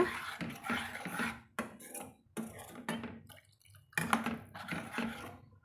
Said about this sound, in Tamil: மிக்சி ஜாரை கழுவி தண்ணி சேர்த்துட்டு இப்போ தேவையான அளவு இன்னுமே நம்ம கொஞ்சமாக தண்ணி சேர்த்துக்கலாங்க